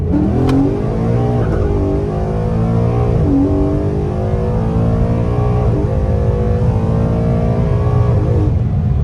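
A Ford Mustang with a 10-speed automatic revs hard on a dyno in a first-gear pull, the loud engine note climbing steadily and dropping briefly at shifts, sustained and close throughout.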